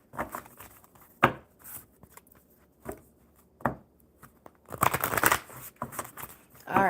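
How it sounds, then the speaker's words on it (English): A deck of cards is shuffled at a table, with several sharp riffling bursts separated by quieter pauses, and a longer, denser flurry of shuffling near the end. "one more good shuffle, Samsung, and we'll see what these cards have for you"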